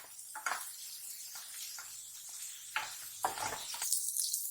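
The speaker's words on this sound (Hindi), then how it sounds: "इसे हम भून लेंगे मीडियम आंच पे। इसे हम हल्का सुनहरा उल्टा भूनेंगे।" Onions frying golden in a pan over medium flame, a steady hiss of sizzling broken by a few scraping stirs and utensil knocks.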